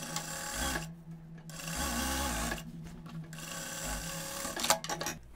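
A sewing machine stitching a fabric seam on trouser crotch pieces, running in several close, loud bursts of rapid mechanical whirring separated by short pauses.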